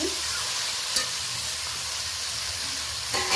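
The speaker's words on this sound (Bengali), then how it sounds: "ঢাকনাটা খুলে আমি ভালোভাবে নেড়ে নিচ্ছি" Mixed vegetables for a Bengali five-vegetable chhokka sizzle steadily in a pan as they are stirred after the lid comes off, a close, continuous hiss broken by a few soft scraping stirs.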